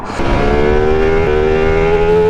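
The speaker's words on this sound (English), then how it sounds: "Honestly, the induction noise of this engine" A Lamborghini Diablo engine sends a steady, close-up induction roar with a strong humming drone that holds evenly throughout, with no voices.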